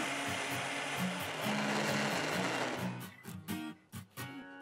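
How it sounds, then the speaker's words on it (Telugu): A mixer grinder whirs loudly as it grinds soaked urad dal, with no water added, into batter for idli and dosa. About three seconds of steady grinding roar break into several short pulsed bursts with brief pauses between them. "మిక్సర్ జార్లో ముందుగా నేను నానబెట్టిన మినప్పప్పుని వేస్తున్నాను. ఇందులో ఏమాత్రం నీళ్లు పోయకుండా ఒక్కసారి రుబ్బాలి."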